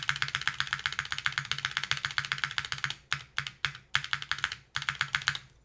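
Typing on a mechanical keyboard fitted with non-warped GMK keycaps, a steady run of crisp close clacks that turns into short separated bursts in the second half.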